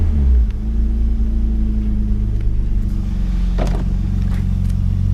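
A warm car engine idles steadily after its idle speed has been lowered, a low continuous rumble with a brief rise in revs near the start and no talking.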